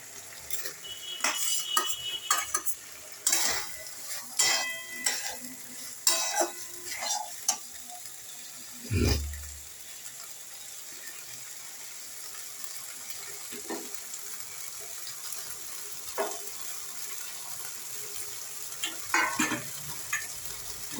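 Papaya pieces tumble into a hot pan and are stirred with a metal spoon, sharp clinks and scrapes against the pan coming in clusters over a faint steady sizzle, then thinning out to occasional taps.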